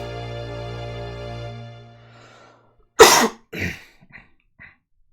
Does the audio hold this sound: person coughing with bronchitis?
yes